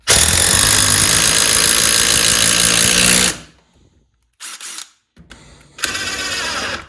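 An impact driver fitted with a right angle adapter drives a bolt, loud rapid hammering for about three seconds, then silence followed by two shorter bursts of the same rattling impacts.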